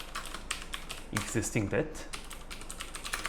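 Rapid clicking of computer keyboard typing runs through the whole stretch, briefly overlapped by someone speaking in the middle, steady and close.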